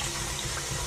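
Steady water rushing from a faucet in a Filipino household kitchen, a continuous close hiss with no talk.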